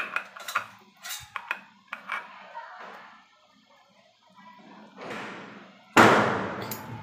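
Metal utensils clink and scrape against a pan while washed poha is stirred into a boiling jaggery mixture, in a series of sharp taps, then a rough sizzling scrape and a loud clatter near the end.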